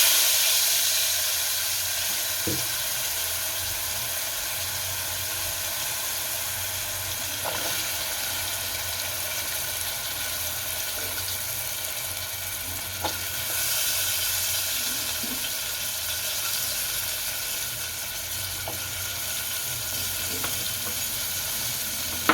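Potatoes sautéing in a pan with spices and garam masala for Gujarati chana batata shaak: a steady, close, even sizzle runs throughout, broken by a few soft clicks from stirring.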